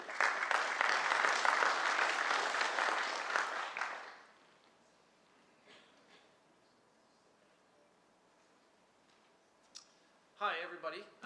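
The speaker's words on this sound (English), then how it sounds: "how about a big round of applause for Observe?" A conference audience at a tech monitoring event applauds loudly for about four seconds, then the sound cuts to near quiet with faint clicks before a person begins speaking.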